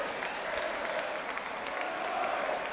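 A crowd at a Prizefighter semi-final boxing bout applauds after the fight, a dense, even wash of clapping and crowd noise sustained throughout at moderate distance, with no individual claps standing out.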